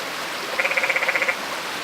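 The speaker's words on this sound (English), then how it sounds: "Frogs." A frog croaks in one quick rattling series of about ten pulses beside a stream near Ribbon Falls in the Grand Canyon, set against a soft, steady rush of water.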